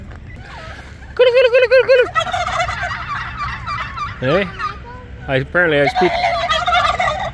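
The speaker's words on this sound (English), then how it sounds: "So these are somebody's turkeys." Several turkeys gobble in loud, warbling bursts nearby in a village near Tbilisi, Georgia, with overlapping calls rising and falling, while a person briefly speaks over the flock.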